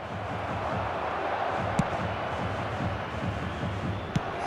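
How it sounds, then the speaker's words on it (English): Steady, dense stadium crowd roar from the football video game eFootball 2023, a broad continuous wash of many voices with a couple of brief sharp accents, sustained throughout with no clear talk. "Crowd appreciates good football all round there."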